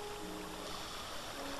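Water flows in streams in Minecraft, split from a single bucket into six channels, making a steady, even rushing that lasts under two seconds with no voices.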